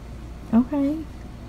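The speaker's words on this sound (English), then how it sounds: "That cat is crying." A cat gives two short, plaintive meows close by, the second longer and drawn out, over a quiet background.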